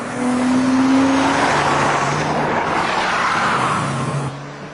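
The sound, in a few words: Porsche Boxster driven hard with traction control off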